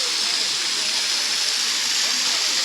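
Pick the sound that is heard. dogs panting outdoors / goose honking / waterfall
waterfall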